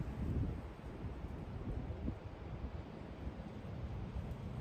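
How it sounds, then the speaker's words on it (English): Wind blowing outdoors at an archery range, a steady low rumbling roar of gusts buffeting the microphone, faint and continuous with no voices. "That wind's gonna be hard to fight."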